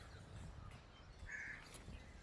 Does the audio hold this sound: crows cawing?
yes